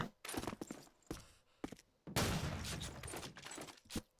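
Grenade blast and bursts of gunfire in Call of Duty 2 during a competitive match, sharp separate shots early followed by a large explosion with a long rumbling tail and further scattered shots.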